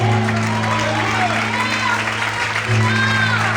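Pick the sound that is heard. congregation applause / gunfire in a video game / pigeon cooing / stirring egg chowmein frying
congregation applause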